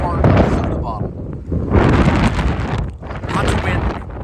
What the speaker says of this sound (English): Tremendous amount of gusts of wind coming through here.